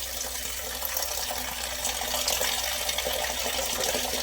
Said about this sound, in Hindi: मैं पानी डाल रही हूँ मैं करेलों में